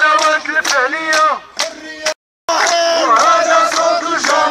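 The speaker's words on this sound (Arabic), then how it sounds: "وهذا صوت الجماهير، وتطالب بالتغيير" A protest crowd at a Democratic Way rally in Ifrane chants slogans in loud, rhythmic unison. Many voices rise and fall in repeated phrases, broken by one brief silent gap before the chanting resumes.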